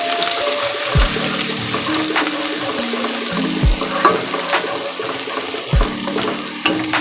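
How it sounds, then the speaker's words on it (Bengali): Onions frying in a pan for a restaurant-style crispy chicken dish, a steady hiss and sizzle under repeated scraping stirs, with a few sharp knocks of the utensil against the pan, close and fairly loud. "এবার আমি পেঁয়াজগুলো সব ছেড়ে দেব, তো ভালোভাবে নেড়ে নেব।"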